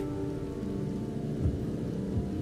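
Steady rain patters on a car in Final Fantasy XV while windshield wipers swish in a slow rhythm, with soft music beneath and no talking.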